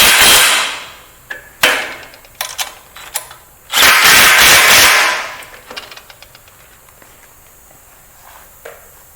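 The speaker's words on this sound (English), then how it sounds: "with a 13 millimeter socket, tighten the nuts on the back of the lifter" Metal clanks and ratcheting taps from a 13 mm socket tightening nuts on a 20500HS lifter, with a few sharp knocks and a longer scraping burst in the middle, close up, then quieter handling noises.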